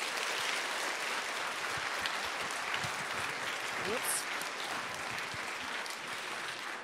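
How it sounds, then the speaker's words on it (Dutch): An audience claps after a children's university lecture, a steady, dense round of applause from a large hall crowd that carries on evenly, with a few voices faintly underneath. "Ik zou graag zeggen, een heel groot applaus"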